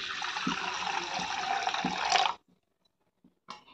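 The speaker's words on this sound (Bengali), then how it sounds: "গ্যাস অন করে দিয়েছি, এখানে জল দেব।" Water poured into a wok on a lit gas stove, a loud continuous splashing gush for about two seconds that stops abruptly, then faint drips and a short final splash.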